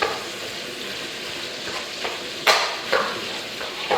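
Sausage frying in a hot pan for breakfast fried rice, a steady close sizzle with a few sharp scraping stirs of a utensil near the end, no talking.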